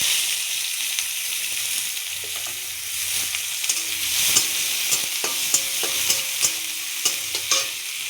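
Onions frying in a pan with bay leaf and black cumin, a steady hissing sizzle close by, punctuated by regular stirring knocks and scrapes from a spoon.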